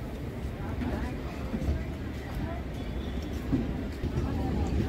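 Steady low rumble of the 12023 Howrah-Patna Janshatabdi Express at Jamtara station, a continuous moderate rail noise without clear spoken words.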